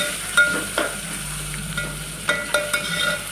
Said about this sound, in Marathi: टमाटर टाकून घेऊन चांगलं हलवून घेऊया।